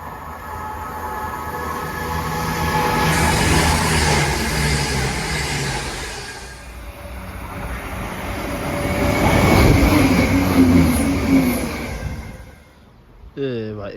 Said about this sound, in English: here's the train that's taking me to High Wycombe, near Thames Turbo.